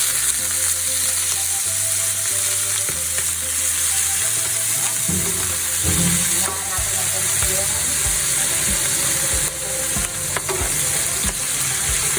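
Ginger and garlic sizzle loudly and steadily in a frying pan of hot oil while cooking squid adobo, with occasional stirring clatter.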